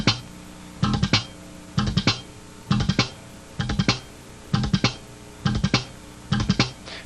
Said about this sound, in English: This is something that I call a machine gun triplet.